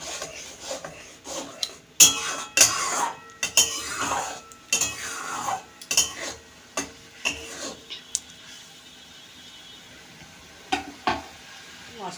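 Masala with slit green chillies is sautéed in a pan: repeated sharp scrapes and clanks of a spatula against metal over a light sizzle, busy at first and then thinning out toward the end.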